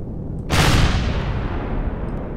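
Heavy gunfire from gun turrets around a refinery in the space survival game Empyrion, a loud sustained burst of booming shots that starts abruptly and rolls on continuously with a dense, roaring tail.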